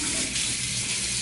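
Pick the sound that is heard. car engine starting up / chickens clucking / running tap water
running tap water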